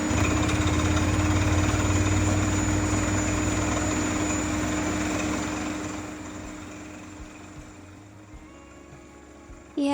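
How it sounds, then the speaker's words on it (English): A massive water well drilling rig runs loud and close, a steady heavy engine drone with rattling, hammering mechanical noise that eases off and grows quieter over the last few seconds. "We decided to drill a water well instead."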